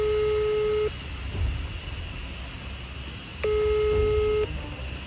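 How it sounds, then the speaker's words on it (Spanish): A telephone dialing a call gives two long steady electronic tones separated by a gap, heard over a constant low background hum. "Voy a llamar otra vez a ver."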